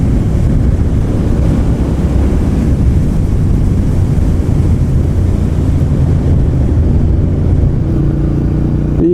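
Royal Enfield Interceptor 650 parallel-twin motorcycle engine pulling at wide open throttle, a loud continuous low rumbling drone with heavy wind buffeting throughout, no speech.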